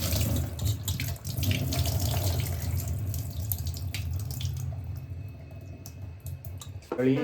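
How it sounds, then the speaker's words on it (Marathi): Chicken being washed under a running kitchen tap, a steady gushing water stream with clicks and handling noises, tapering off near the end as a voice speaks briefly. "तर मंडळी आता धुवून वगैरे झालेलं आहे, तर पूर्णपणे असं धुवून घ्यायचं आहे."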